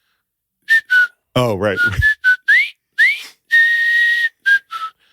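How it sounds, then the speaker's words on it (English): A person whistling without using their lips, producing a series of short, sharp, high-pitched whistle bursts with some sliding tones, close and loud, with brief speech in the middle. "everyone knew how to whistle without their lips"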